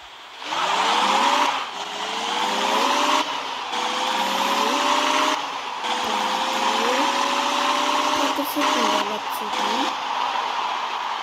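A BMW M3 engine revs in sustained pulls, its pitch rising and sweeping through several throttle blips with short dips between them. The engine is loud and close for about ten seconds, with no voices over it.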